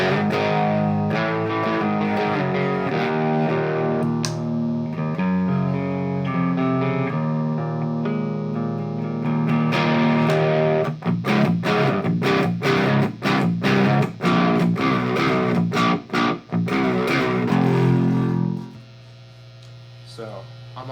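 Distorted electric guitar through the high-gain channel of a Randall RG80ES solid-state amp, sustained chords then choppy palm-muted riffing, ending in a ringing chord over faint hum.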